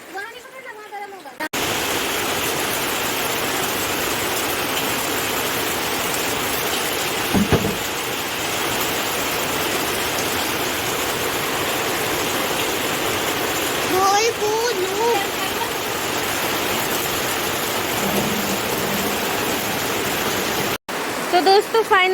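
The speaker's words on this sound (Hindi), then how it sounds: "ये देखिए बारिश कितनी तेज हो गई है" Heavy rain pours steadily outdoors during a monsoon storm, a dense, continuous hiss of water with wind-blown splashes, loud and close throughout with a brief bump partway through.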